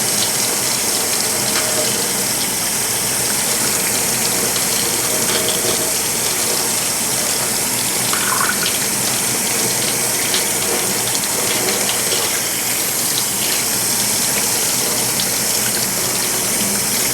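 Hot tap water runs in a steady, loud gush into a sink while a spatula is washed to get the oil off. It pours without pause, with faint clinks beneath it.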